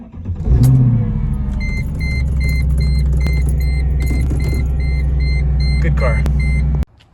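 A Mercedes E420 starts up: the starter cranks briefly, the V8 catches with a loud burst and settles into a steady low idle. Warning chimes beep repeatedly over the engine, and keys jangle before it cuts off at the end.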